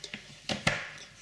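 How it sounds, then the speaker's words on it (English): A knife chops through a block of chocolate on a board, giving four sharp, separate cuts at an uneven pace, close and clear with no talk over them. "So take the chocolate, all we're going to do is just cut it up"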